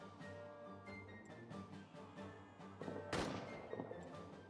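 Artillery fire in the WWI trench game All Quiet in the Trenches: a steady low rumble of battle with a loud broadband blast near the three-second mark, followed by scattered thuds and crackle.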